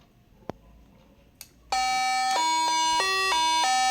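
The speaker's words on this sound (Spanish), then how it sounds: "Suena el timbre. Están tocando el timbre" Smart doorbell chime rings loud and sustained through an Amazon Echo Show intercom, a multi-note electronic tone pattern following two faint clicks as the button is pressed.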